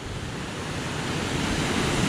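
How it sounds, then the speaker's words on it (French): The N'Go valley cascade, a waterfall along a hiking trail, gives a steady, loud, broadband rush of falling water with no pauses and no voices. "La cascade de Ngo."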